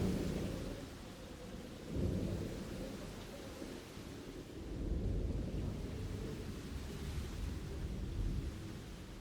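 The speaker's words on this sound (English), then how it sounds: "Considering that we are currently experiencing a thunderstorm in-game." A thunderstorm in the dinosaur park video game Jurassic Park: Operation Genesis, with steady rain hiss and deep rolling rumbles of thunder swelling and easing in several waves, alone and without talk.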